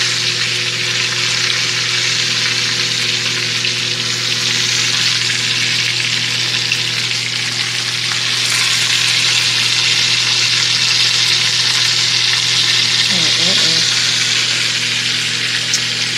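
Steaks frying in a hot pan for a late-night dinner, a loud steady sizzle and crackle that holds unbroken throughout, close up, with no one talking.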